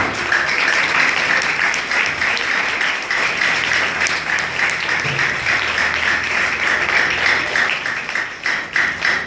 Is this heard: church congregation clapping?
yes